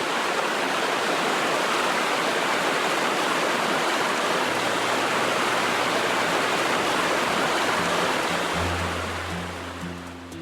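Loud, continuous roar of river rapids rushing in Lapland, heard up close as a dense, steady wash of white water with no voices, easing slightly near the end.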